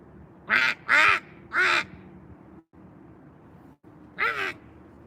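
A person mimics a distressed duck call outdoors on a Tokyo street during cherry blossom season. Four loud, nasal quacks sound close up, three in quick succession and then one after a pause.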